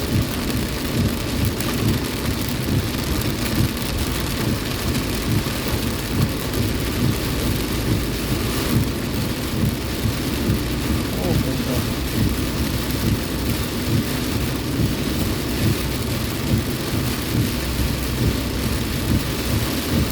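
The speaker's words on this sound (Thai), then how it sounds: "มีแต่น้ำฝน ตกลงมา" Heavy rain pours down steadily, a dense, continuous hiss and patter close by, with low rumbles in the background and no voices.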